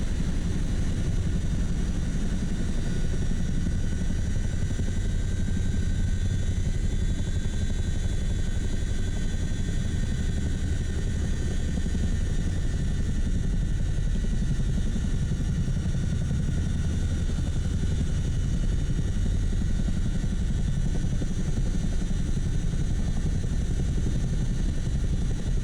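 A CH-47 Chinook helicopter in the Flight Simulator 2024 game gives off a constant, heavy rotor and engine drone that holds steady and loud throughout, with no voices.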